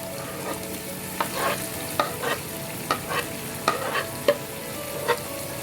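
Garlic, ginger, green chili paste and chopped tomatoes are stirred into a sizzling pan, with a steady fry under a regular series of close scraping strokes roughly every half second.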